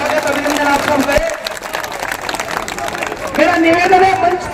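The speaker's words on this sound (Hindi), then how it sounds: "एक बार जोरदार तालियां बजाकर राव साहब का स्वागत अभिनंदन आप सब करें।" A crowd claps to welcome a politician at an outdoor election rally in Haryana, India. The applause swells and fades over a few seconds, mixed with cheering voices and talk.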